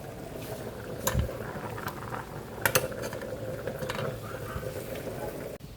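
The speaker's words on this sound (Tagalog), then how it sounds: "Kumukulo na rin po yung ating sinaing." A steady bubbling, simmering noise from a pot of rice boiling on the stove, with a few clinks and small knocks, no talk.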